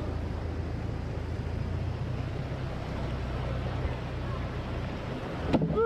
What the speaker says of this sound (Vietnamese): Đây là cảnh suối quê mình các bạn nha, trong veo này, sạch sẽ, mát mẻ.